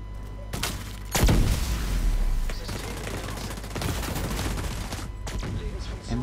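Gunfire from the video game Tom Clancy's The Division 2 comes in dense automatic bursts with sharp impacts. It is loud and close, with brief gaps between the volleys.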